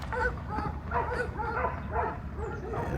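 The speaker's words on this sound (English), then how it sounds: "dogs are everywhere" Several dogs bark and yip repeatedly out in a cluttered country yard in rural Texas, a steady run of overlapping woofs at moderate distance, with faint voices underneath.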